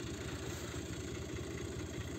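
A Fiat 480 tractor engine idles at rest beside a roadside fountain, a steady low rumbling chug that stays even and close with no voices.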